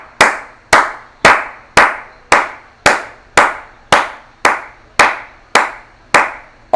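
A church congregation claps in unison at a worship service, about a dozen sharp, evenly spaced loud claps in a steady rhythm, with no voices over them.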